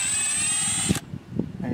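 Impact wrench driving an old bolt during an axle bearing and seal replacement, a loud steady whine for about a second that cuts off abruptly, followed by faint clatter.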